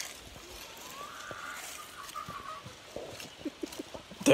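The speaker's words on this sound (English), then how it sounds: "Them chickens got mad you over there feeding that hog." Chickens clucking faintly in a country farmyard near a hog being fed, a few soft scattered clucks over quiet outdoor background noise, with a louder bump at the end.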